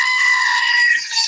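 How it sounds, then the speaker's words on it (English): A screaming goat toy, the kind based on the goat meme, gives one sustained, shrill goat scream, loud and close, held steadily for over a second. "So they have now the screaming goat, and you have to get one."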